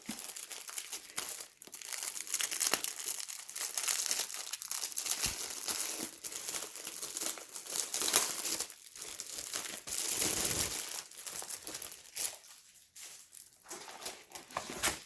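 Plastic packaging crinkles and tears as a diamond painting kit is unwrapped, the crackling handling noise continuous and close for the whole stretch, with no talking.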